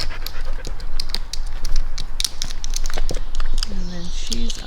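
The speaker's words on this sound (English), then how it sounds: "There's the dogs playing" Dogs pant rapidly and rustle around close by in continuous play, with a few short yips and soft whines mixed in.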